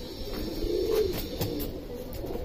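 A pigeon coos softly and close by, giving a short low burbling call that swells and fades over a couple of seconds against a quiet background, with no talking.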